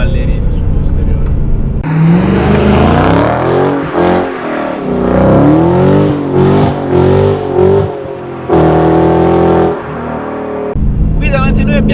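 A Dodge Challenger SRT 6.1 Hemi V8 with 425 horsepower accelerating hard, its loud engine rising through the revs with gear-change dips and a brief pause before pulling again, while someone talks over it.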